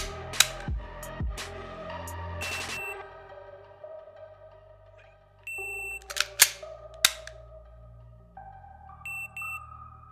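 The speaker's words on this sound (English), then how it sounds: "The app will capture the sound of the trigger pull" A handful of sharp, dry mechanical clicks from dry-fire trigger pulls, spread out over several seconds, separated by quiet gaps with some faint background tones.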